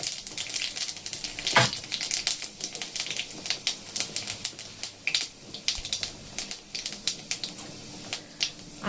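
Panch phoron seeds dropped into hot oil for a winter vegetable stalk chorchori, crackling and popping in quick irregular spits over a soft sizzle, close and fairly quiet, with a brief stir scrape and no voices.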